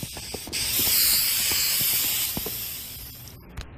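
Insecticide sprayed from an aerosol can in a cartoon scene, a close, loud, steady hiss lasting a few seconds, with small clicks and knocks around it and no speech.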